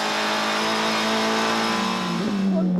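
Onboard GTC race car engine at sustained high revs under load, loud and close, holding a steady droning pitch before a brief shift near the end.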